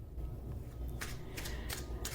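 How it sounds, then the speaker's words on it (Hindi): Tarot cards are shuffled by hand at close range, making a soft, quiet run of riffling and sliding with several crisp flicks spaced evenly toward the end. "मैं कार्ड्स आपके सामने ही शफल करूंगी"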